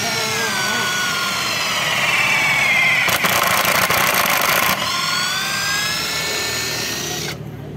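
A Tanzu 600 Nm impact wrench on its low setting drives a drill bit into wood, giving a loud steady motor whine with a rough, grinding burst in the middle before it winds down and stops.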